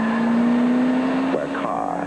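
Standard production car cornering on a skid pad at the limit of tire adhesion, a steady engine drone with a sustained tonal tire squeal that shifts pitch partway through.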